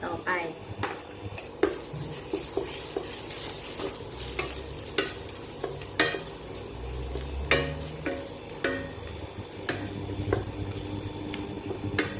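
Steady loud sizzling of food stir-frying in a hot wok, with repeated scraping and clanking of a utensil against metal, stirred continuously.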